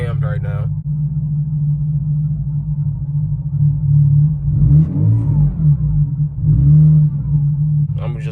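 A Nissan 300ZX Turbo Z engine with a cam runs at a steady, deep idle, heard close and loud with a low rumbling drone and slight surges, while a voice speaks briefly at the start and end.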